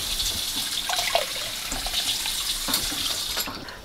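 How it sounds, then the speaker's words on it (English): Soaked rice lifted out of its soaking water into another bowl while making Hmong rice sausage, with steady close splashing and trickling water running throughout. "She is going to take the rice out of that soaking water and place it into another"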